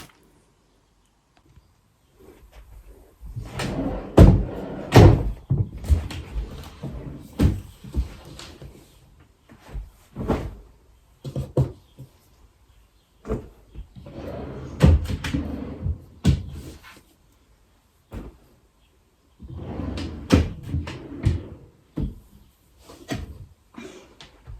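Rummaging through and emptying household drawers of sports gear during a whole-house declutter: irregular bursts of rustling, thumps and knocks as items are lifted out and set down, with quiet pauses between them.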